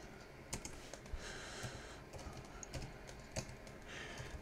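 Close, quick keystrokes on a computer keyboard as a sudo mount command is typed on a Raspberry Pi setup, irregular clicks with a few sharper key hits and no talking.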